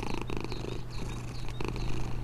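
A giant cat in the video game Only Up! purrs loudly and continuously, a deep rhythmic rumble with regular breathing pulses that fills the whole stretch without any talk.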